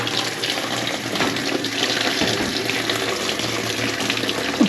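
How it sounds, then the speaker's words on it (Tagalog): Water runs steadily from a tap to fill a basin for hand-washing laundry, a loud, continuous close-up gush that holds for several seconds without pause or talk. "Labas ng tubig."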